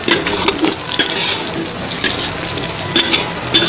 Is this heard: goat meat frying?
yes